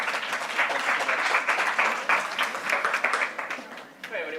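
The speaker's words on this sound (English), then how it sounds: "Can I have a big applause for Alejandro from Odos?" Audience applause at a startup pitch event, steady clapping from a crowd filling the room at moderate loudness before thinning out and a voice begins at the end.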